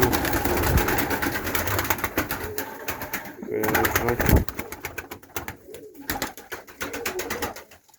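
Pakistani pigeons coo close by in a loft, with soft repeated calls over a busy background of fluttering and scuffling noise.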